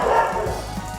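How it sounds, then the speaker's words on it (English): Several dogs bark and yip in a loud, dense jumble that runs through the whole short moment. "Dogs, shut up!"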